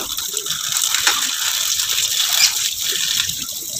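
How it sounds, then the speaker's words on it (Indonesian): Water drains from soaked corn pigeon feed poured through a sieve, a continuous close rushing gush with small rattling grains, loud and steady throughout, no voices. "itu disaring pakai saringan begitu supaya airnya terbuang"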